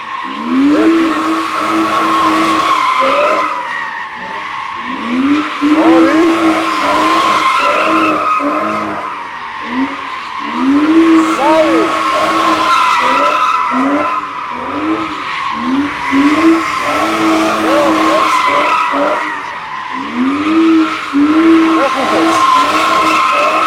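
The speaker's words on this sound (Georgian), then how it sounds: "საიდანაც ჩააყენებს დრიფტში მანქანას იქედან დავიწყებ 1000 დონატის რა." A car drifting in donut circles squeals its tires loudly in repeated rising and falling waves, with engine revving beneath and voices faintly audible.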